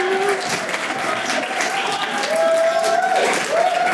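Applause from an audience at an evening SDR awards event at the De Vere Grand Connaught in London, steady and continuous for the full stretch, with some crowd noise mixed in.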